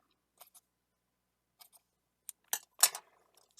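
Scissors snip through paper in short, quiet cuts, a couple of faint pairs early on and then a few louder, crisper snips close together near the end, with silence in between.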